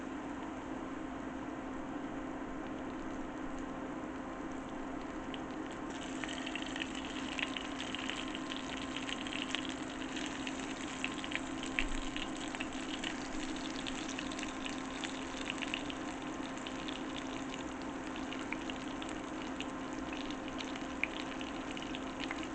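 Breaded oyster mushroom schnitzels fry in a pan of oil, a continuous close sizzle that grows brighter and busier partway through as more oil goes in, with no talking.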